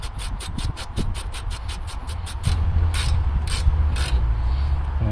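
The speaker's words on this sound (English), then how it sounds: "I'm going to use these needle nose pliers." Needle nose pliers turning a rear brake part on a 2006 Nissan Xterra, a rapid run of regular metallic ratcheting clicks, then a louder mechanical rubbing whir with slower clicks, close and alone.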